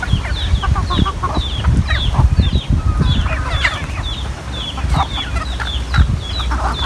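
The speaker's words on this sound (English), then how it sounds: "See the chicken?" Chickens cluck repeatedly at a farm, a steady stream of close, overlapping clucks and short calls over a busy outdoor background.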